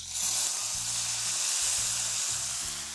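Onions and lentils sizzle steadily in a hot pan, a close, constant frying hiss with soft bumps and scrapes underneath and no talking.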